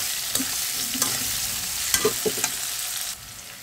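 Potatoes frying in a pan with whole spices such as crushed cardamom and cinnamon for baim fish bhuna, a steady close sizzle broken by a few sharp clinks of a spatula against the pan.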